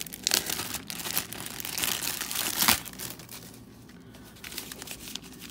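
A cardboard box holding collectible cards is cut open at the back, giving close, loud crinkling and tearing with sharp rips, easing into quieter rustling.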